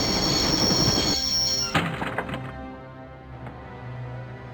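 Train in the Broken Sword: The Shadow of the Templars video game, a loud rumbling, squealing run that fades into a lower steady hum as it recedes.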